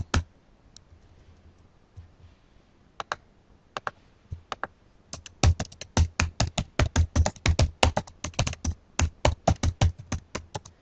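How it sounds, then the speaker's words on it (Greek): Keys clatter on a computer keyboard, starting with a few scattered taps and then building into a fast, steady run of close, crisp clicks with no voices. "Για να προσθέσουμε κείμενο στη σελίδα μας μπορούμε απλά να το πληκτρολογήσουμε"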